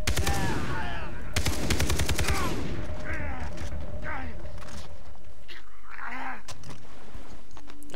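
An AK rifle fires in the video game Far Cry 3 with a loud, rapid automatic burst, followed by scattered single shots and footsteps while someone talks throughout.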